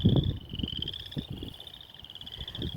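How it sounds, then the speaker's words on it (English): Chorus frogs sing in spring water in Waukesha, a continuous chorus of rapid raspy trills repeating steadily, with low bumps and knocks from the surroundings near the start. "when spring comes, they unthaw and they start to sing. They sound like a comb."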